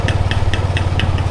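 A small outboard motor on a broken-down wooden boat (bangka) idles steadily with a low, rhythmic chugging pulse and regular knocking beats, close and continuous, with no voices.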